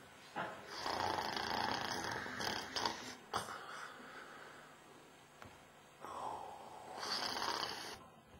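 A mime's voice imitates snoring in a comic act, with long, raspy snore-like breaths in repeated bursts and short pauses between them.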